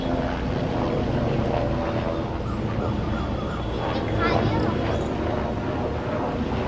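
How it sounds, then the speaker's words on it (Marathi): A helicopter's low rotor and engine drone passing overhead, fairly steady and moderately loud, with faint indistinct voices in the background. "आमच्या इथून बघा हेलिकॉप्टर जात आहे"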